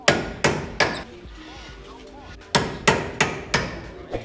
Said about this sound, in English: So what we have to do now is hammer it out so that we could be able to loosen it.